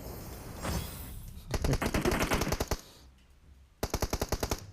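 Bursts of rapid automatic gunfire in PUBG Mobile, two quick strings of close, loud shots with a pause between them, preceded by a softer rushing sound.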